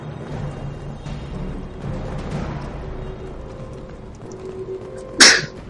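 A single short, sharp sneeze bursts out near the end, loud against a quiet room hum.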